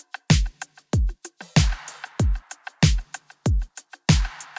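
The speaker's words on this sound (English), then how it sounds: "Now the next thing that I added was a clap" A clap sample from the Oliver pack lands on the backbeat of an 80s disco-pop beat, sharp bright claps repeating in a steady pattern alongside deep punchy kick hits, with no voices.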